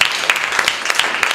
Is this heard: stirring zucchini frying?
no